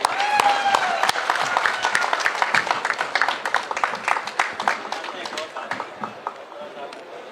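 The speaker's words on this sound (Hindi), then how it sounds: "तालियां रुकनी नहीं चाहिए।" An audience at the Bharat Literature Festival applauds actor Pankaj Tripathi during a book presentation, with sustained dense clapping and a voice over it, tapering slightly toward the end.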